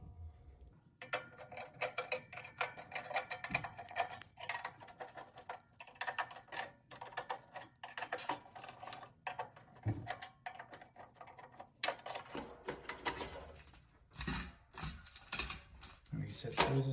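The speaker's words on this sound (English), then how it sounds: "The next step will be to take the fans off of the miner. And there are 8 screws per fan in every corner on both sides." Screws are backed out of the cooling fans on an Antminer S19J Pro crypto miner, eight per fan, making repeated light ticking and ratcheting clicks in short bursts. The sound is close and fairly quiet, with faint talk in places.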